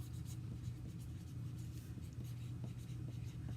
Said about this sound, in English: the first thing you're going to want to do is flip it over and write on the back side.